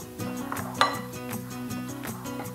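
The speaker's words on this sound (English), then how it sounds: "Stir all of these beautiful spices and leavening agents together" Spices and leavening agents stirred together in a bowl for molasses mini bundt cakes, giving soft repeated clinks and scrapes of a utensil against the bowl, with one sharper ping near the start over a steady background hum.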